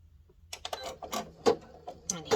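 An embroidery machine sews a tack-down stitch to attach the back of a hand sanitizer holder, giving quiet, uneven clicks and whirs that rise and fall over a couple of seconds with no talk.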